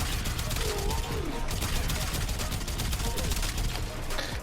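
Kuva Quartakk rifle in Warframe firing rapid bursts, a dense, steady stream of crisp gunshots with constant battle noise behind.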